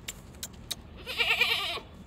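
A goat being taken home by auto-rickshaw before Eid gives one clear, wavering bleat, preceded by a few sharp clicks and knocks nearby.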